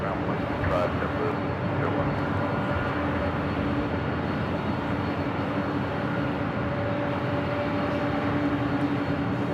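Jet airliners at LAX roar in a loud, steady rumble that fills the whole stretch, heard from nearby with no pause or change.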